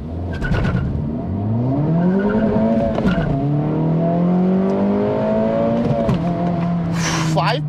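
A 2024 Acura Integra Type S launches hard with traction control on, its engine revving steadily upward through gears with brief dips at shifts, loud and close throughout, ending in a short burst of noise.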